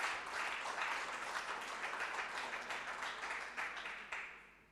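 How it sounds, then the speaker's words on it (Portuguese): Steady applause from an audience, many hands clapping continuously, fading slightly toward the end with a few louder individual claps. "Mais uma salva de palmas para a Ana Correia, por favor."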